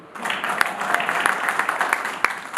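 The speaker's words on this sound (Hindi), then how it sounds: "ताली बजाइए।" Audience applause fills a Hindi poetry recital at a kavi sammelan, dense steady clapping from a crowd with a few louder individual claps standing out, continuing throughout.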